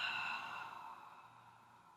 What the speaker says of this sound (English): Big inhale, and then a nice long exhale.